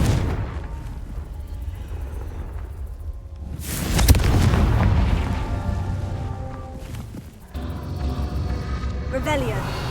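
A Confringo fire spell goes off in Hogwarts Legacy with a sudden loud boom and roaring burst midway, then rumbling game noise continues while a voice talks over it.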